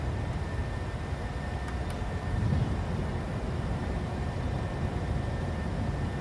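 An airliner taking off and climbing in a flight simulator game, with a steady broad engine roar and rushing air that swells slightly midway and holds without any talk.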